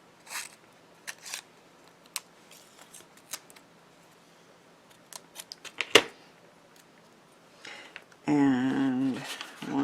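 Small scissors snip out glue dots in scattered, crisp clicks near at hand, with a sharper cut in the middle, then a voice starts talking toward the end.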